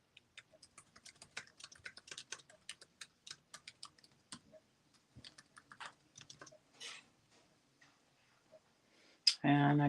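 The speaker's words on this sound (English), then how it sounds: "If I could type." Computer keyboard typing, a series of irregular taps and short bursts of keys with pauses, up close and fairly quiet, ending in a louder rustling noise.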